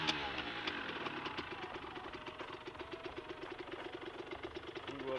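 A running engine heard close, with a steady rapid knocking pulse and a slight rise in speed, with voices talking briefly under it.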